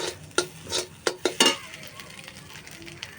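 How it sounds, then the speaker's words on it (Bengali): A spatula scrapes and stirs pointed gourd peels in a pan with several sharp strokes over a soft sizzle of frying food. "যতক্ষণ না জল শুকাচ্ছেন নেড়ে নেড়ে এইভাবে ভেজে নেব"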